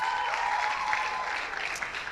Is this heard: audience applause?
yes